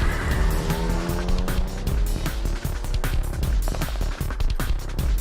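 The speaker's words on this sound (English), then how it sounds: "the engine quickly revving up to speed." A taxi engine revs hard in the video game 428 Shibuya Scramble, loud and continuous, with rising engine tones, tire squeal and rapid clattering hits layered over it as the car pulls away.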